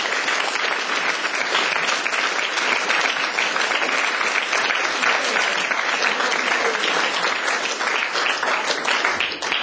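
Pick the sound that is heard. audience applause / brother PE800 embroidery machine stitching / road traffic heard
audience applause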